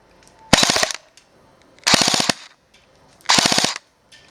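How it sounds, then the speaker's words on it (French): Airsoft gun firing BBs with an overly strong hop-up setting in three short automatic bursts of rapid snapping shots, each lasting about a third of a second, loud and close with quiet gaps between. "donc dernier test de tir avec un hop-up trop appuyé, trop fort disons"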